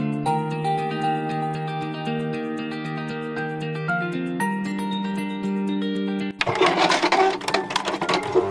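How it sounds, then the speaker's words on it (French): A domestic sewing machine stitches shoulder seams on a garment in a steady, close mechanical whir for most of the clip, then gives way to louder rattling clatter at the end. "Je vais faire la petite piqûre de chaque côté au niveau des épaules."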